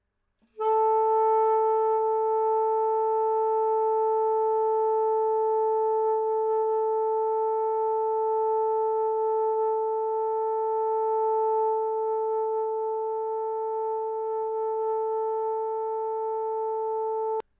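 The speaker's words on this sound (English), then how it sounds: "You can hold a note pretty much indefinitely on all the saxophones" A saxophone holds one long, steady note for many seconds, sounding alone and unbroken until it stops abruptly.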